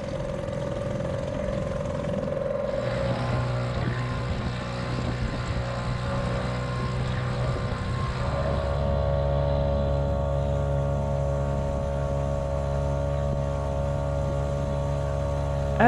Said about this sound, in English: As we were making our way to the cut by dinghy